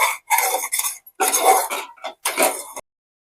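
A spoon scrapes thickened cream off the sides of a pot of simmering milk for mango kulfi, giving several rough metallic scraping bursts close up, separated by short pauses.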